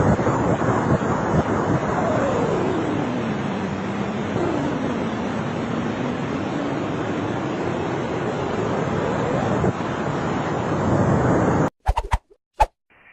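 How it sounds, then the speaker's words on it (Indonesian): Black hole X-ray data converted into audible sound plays as a continuous, loud, hissing drone with a slowly sweeping, warbling tone, sustained for most of the stretch before cutting off into a few brief clicks. "Suara black hole ini sebenarnya adalah data X-ray yang dikonvert ke suara yang bisa didengar manusia."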